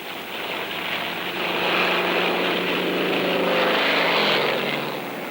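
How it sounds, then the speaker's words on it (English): Propeller-driven warplanes coming in to land aboard the World War II aircraft carrier USS Franklin, a loud, steady engine drone that swells and fades gradually across the whole stretch, with no talk. "The LSO actually nurses every one of those planes down to a perfect landing with body English"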